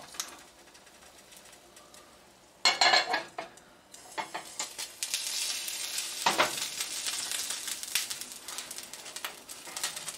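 Eggs frying in a cast iron or hand-hammered carbon steel pan: a sharp metallic clank, then a loud, steady sizzle with crackling bursts that builds and continues to the end.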